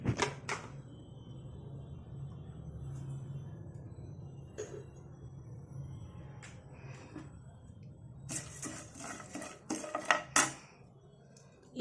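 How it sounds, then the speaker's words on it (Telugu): Tempering spices hit hot oil in a pan while making tamarind rice-rava pulihora, with faint background sizzle and a few sharp clinks of a metal spoon against the pan toward the end. "పోపు దినుసులు వేసుకోవాలండి."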